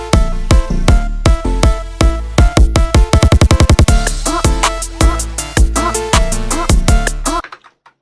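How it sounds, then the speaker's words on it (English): Kick drum roll in an FL Studio type beat: booming kicks with melodic elements, hits speeding into a rapid dense roll midway then returning to a steady pattern before cutting to near silence at the end. "like this kick roll here on the last bar"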